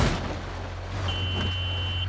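A tip-over warning alarm inside a bus cab in a video game: after a low rumbling start, a thin, steady high-pitched tone switches on midway and holds unbroken to the end.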